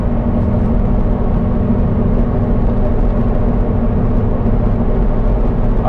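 Steady, loud interior road noise in a quiet car cruising at 80 mph, a constant low rumble and whir of tires and wind with no break throughout.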